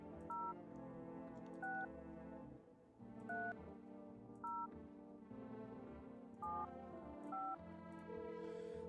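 Telephone dialing tones in the video game No, I'm Not a Human, a series of clear two-tone keypad beeps spaced through the clip over a steady background tone.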